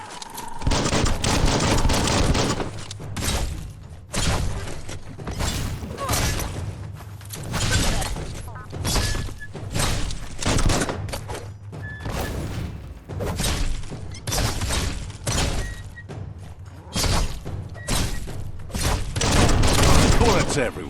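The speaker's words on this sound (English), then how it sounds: "Bullets everywhere." Dense gunfire rattles through a Biomutant battle, with rapid bursts and heavy thuds running nearly nonstop across the whole stretch, loud and close, with occasional sharp metallic cracks and a voice speaking over the action.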